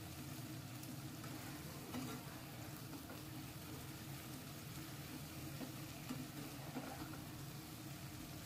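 Onions and paneer sauté in a pan with a steady, moderately loud sizzle and frying crackle, and a few louder stirring scrapes stand out along the way.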